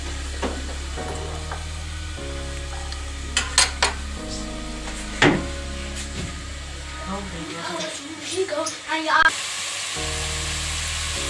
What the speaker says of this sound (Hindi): अभी देखें प्याज ब्राउन हो रही है